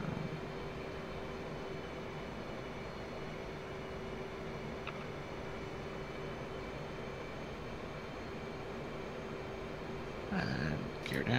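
A steady, droning aircraft engine hums through a landing practice flight, continuous and fairly loud, with a brief rise in power near the end.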